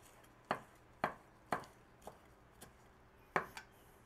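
A knife chops basil on a cutting board with five or six sharp, close knocks, evenly spaced about half a second apart, then a short pause and one more hard chop.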